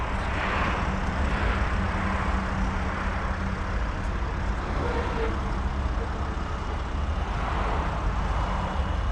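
Steady highway traffic roars beside a parked 2019 Range Rover Sport, a constant broadband rush of passing cars and trucks with no speech, loud and unbroken throughout.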